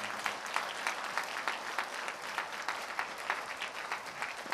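A church congregation applauds graduates of a discipleship college at a graduation ceremony, sustained even clapping with a regular pulse, heard from some distance and fairly soft.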